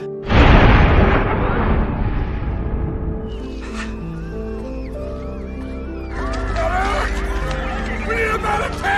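In a film scene, a bomb bursts at a podium with a sudden heavy boom that rolls into a long rumbling decay, followed by a tonal dramatic score and scattered debris and chaotic sounds.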